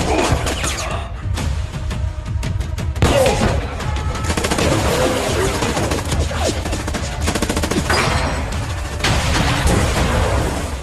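Gunfire from a sniper action film: dense, sustained bursts of shots and rattling automatic fire with booming impacts, loud and continuous throughout, with no speech over it.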